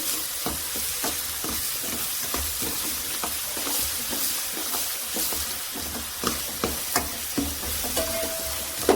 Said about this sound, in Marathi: तर आता सर्व मिक्स करून घेऊया.